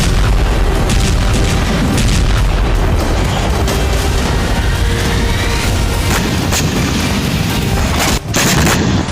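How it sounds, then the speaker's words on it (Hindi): Missile and rocket launcher strikes in the Kursk region, a continuous loud barrage of booms and blasts with crackling bursts layered throughout. "मिसाइलों और रॉकेट लॉन्चरों से कुर्स्क के इलाकों में तबाही मचा रही है।"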